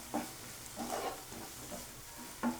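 Diced tomato pieces frying gently in a pan over low heat for a sweet corn masala chaat, with faint sizzling and a few close stirring scrapes at a steady, unhurried pace.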